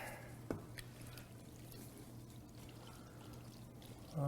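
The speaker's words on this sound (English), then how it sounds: "we want to pour this in our dish." Cooking mixture pours into a baking dish greased with cooking spray, a soft liquid trickle and glug with a brief clunk near the start, steady low kitchen hum underneath and a louder bump at the end.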